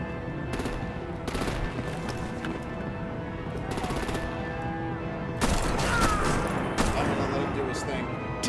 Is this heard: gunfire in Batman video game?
yes